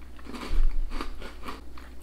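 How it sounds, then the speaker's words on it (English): Someone takes a single sharp, crunchy bite of a McVitie's Blissfuls biscuit with chocolate and cream layers, followed by soft, close chewing. "Biscuit part's very crunchy,"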